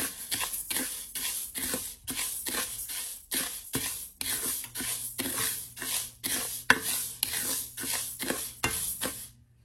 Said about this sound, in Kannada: ಸೊ ಇದೊಂದು 3-4 ನಿಮಿಷ ಇದನ್ನು ಸುಮ್ಮನೆ ಹಿಂಗೆ ಡ್ರೈ ರೋಸ್ಟ್ ಮಾಡ್ಕೊಬೇಕು